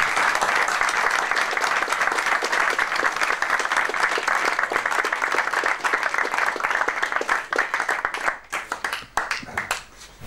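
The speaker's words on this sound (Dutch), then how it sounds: "Graag een applaus" A crowd at a PVV political rally in Friesland applauds Geert Wilders and Max Adenauer, thick sustained clapping that thins into scattered, uneven claps near the end.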